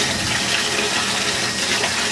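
Shower water runs steadily in a loud continuous hiss and splash while a pet is bathed, with no talking over it.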